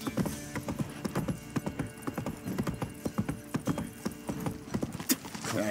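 Roach the horse's hooves clip-clop in The Witcher 3, a brisk, regular run of sharp hoof strikes over a low background bed, with a brief whinny-like call.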